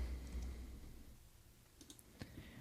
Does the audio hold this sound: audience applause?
no